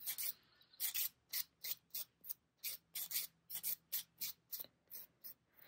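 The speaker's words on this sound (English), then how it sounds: "I'm gently filing and blending it in" A nail file rasps back and forth over a dip powder nail in short, quiet, rhythmic strokes, close up and alone, about fifteen strokes in a steady pattern.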